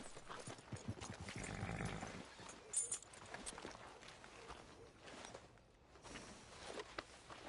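Horse hooves clip-clopping in Red Dead Redemption 2, quiet irregular hoofbeats on the ground with some rustling and shuffling around them.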